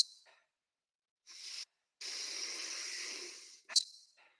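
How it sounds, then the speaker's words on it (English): Deep breathwork for mountain athletes, inhaling through the nose and exhaling through the mouth: close, airy breaths in separate spaced pulls, one long steady hissing exhale, and a sharp short snort of air at the end. "I want those inhales in through your nose and the exhale through your mouth"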